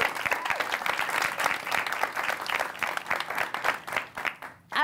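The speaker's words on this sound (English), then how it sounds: "Round of applause for Kenise." Audience applause for a comedian at a live comedy show, a dense, steady wash of many hands clapping close by for nearly five seconds before cutting off abruptly.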